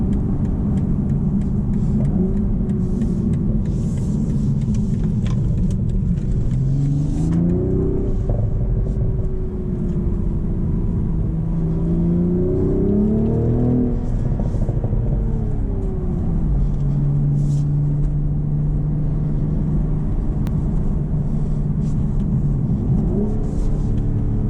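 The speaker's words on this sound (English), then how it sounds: "we'll have a little run up this hill and then an acceleration onto the highway" A 2025 BMW Z4 M40 with a manual gearbox climbs a hill and accelerates onto a highway, its engine droning loudly and steadily from inside the cabin, pitch rising and falling through gear changes over continuous road rumble.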